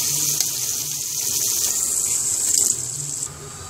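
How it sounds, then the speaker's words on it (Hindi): Water pours steadily from a tap or jug into a cooking pot of white chickpeas in a home kitchen. The flow is a continuous close splashing gush with no voices. "चने डालने के बाद मुझे पानी चाहिए था इसके अंदर, तो मैंने पानी डाला है"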